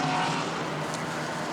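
GT4 race car at Monza heading down toward the Parabolica right-hander, a loud engine note with a faint brief tyre squeal in a short burst.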